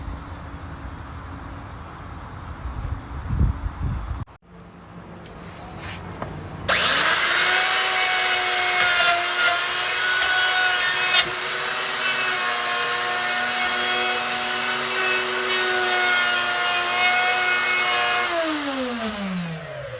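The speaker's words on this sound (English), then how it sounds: "So I used the router to route out this hole." A wood router cuts a hole in a wooden panel for a camper shell buildout on a 2022 Ford F-250 diesel. After some rustling and a short pause, the router spins up into a loud, sustained high whine while cutting, then winds down near the end.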